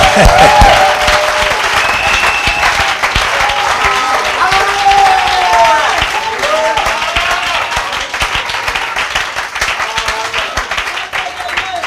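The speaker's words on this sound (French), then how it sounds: "Non, applaudissons pour le Seigneur." A church congregation claps loudly and continuously with crowd noise and cheering, the dense applause lasting throughout while voices call out underneath.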